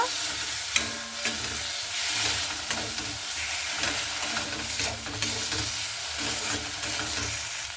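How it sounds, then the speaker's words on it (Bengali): Chopped pointed gourd fries in a pan while being stirred, giving a steady close sizzle broken by repeated scraping strokes of the spoon against the pan throughout. "খুব ভালো মতো করে নাড়াচাড়া করে নেব"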